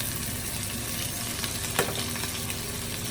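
Ginger sautéing in hot oil for a chicken stir-fry with pineapple and cashews, a dense, even sizzle close by with a single light spatula tap.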